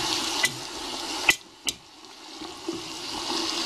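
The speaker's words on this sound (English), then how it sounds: "they're supposed to saute a little bit anyway" Eggplant sautéing in a pot for Italian eggplant soup, a steady soft sizzle with a few sharp stirring clinks and scrapes of a utensil against the pot, close and moderately quiet.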